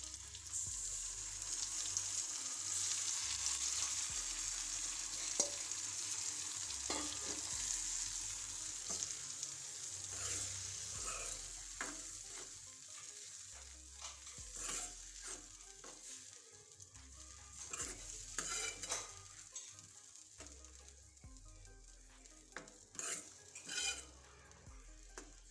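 Onions fry and sizzle steadily in a pan while a spoon scrapes and stirs through them with masala, with occasional louder clinks against the metal and no talking.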